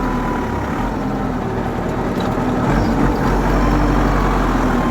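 Tractor engine that has lost power running on a road, a low, heavy, continuous rumble with a slight swell near the end and no voices.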